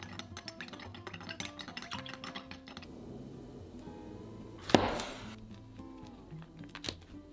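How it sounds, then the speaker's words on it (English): Soy sauce, dark soy sauce, vegetarian oyster sauce and stock are whisked in a bowl, giving quiet rapid scratchy strokes up close, with a sharper clink midway. "Whisk."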